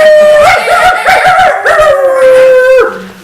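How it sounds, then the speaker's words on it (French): Several dogs on a street howl loudly and close by, sustained wavering howls overlapping each other for about three seconds before fading, with no talk. "tous les chiens de la rue hurlaient à la mort."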